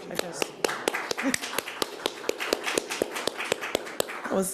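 Sparse audience clapping at a federal government funding announcement, sharp individual claps in an irregular but steady rhythm over a roomy background.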